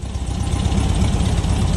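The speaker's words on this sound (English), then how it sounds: "So the bike is running," A VW motorcycle engine running again after 20 years in storage, idling with a steady, rough mid-pitched rumble that sounds close and constant.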